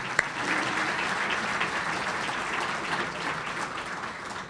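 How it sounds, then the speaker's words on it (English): Audience applause for event sponsors at a county government presentation, a steady, dense round of clapping filling the room for several seconds without talk. "Let's give them a round of applause for their support."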